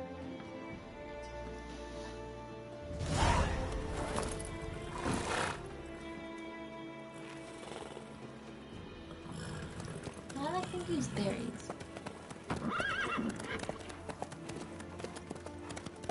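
A horse in The Witcher 3 video game trots with rhythmic clip-clop hoofbeats and gives an occasional whinny, set under game dialogue and background music.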